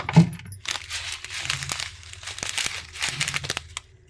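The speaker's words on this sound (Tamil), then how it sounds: "கொஞ்சமாக கடுகு நல்லா பொரிஞ்சிருச்சு" Mustard seeds and fenugreek popping in hot oil in a pan while tempering a curry, a quick irregular scatter of sharp crackles and spits, fairly close and moderately loud, with no talking.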